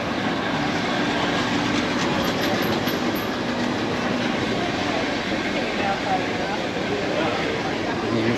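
Port de Soller tram in Mallorca rolling on its rails, a steady loud rumble with rhythmic wheel clatter throughout.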